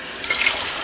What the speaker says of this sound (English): yes, I use tap water.